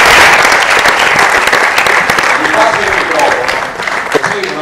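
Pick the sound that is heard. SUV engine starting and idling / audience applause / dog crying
audience applause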